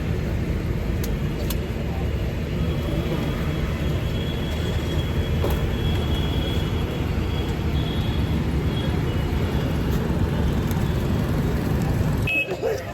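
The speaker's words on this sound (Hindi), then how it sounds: "मेट्रो" A metro train rumbles past in a steady, loud low roar with faint high squeals and a sharp click near the end, heard close throughout.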